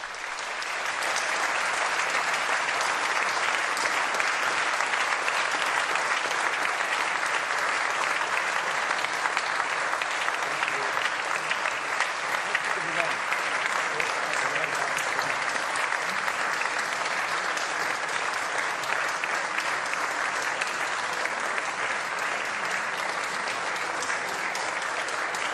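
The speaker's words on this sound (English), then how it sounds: "sustained applause for Pope Francis's speech here at the Catholic University of Leuven." A large crowd at the Catholic University of Leuven applauds Pope Francis after his speech, a dense, unbroken roar of clapping that holds loud and even for the whole stretch.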